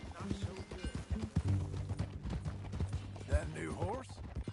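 Horse hooves clip-clop steadily through the streets of Saint Denis in Red Dead Redemption 2, with people talking over the rhythmic footfalls and a creak of tack now and then.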